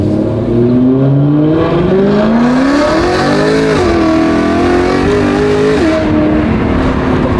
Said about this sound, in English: it's the downshifts for me, bro. Sounds so good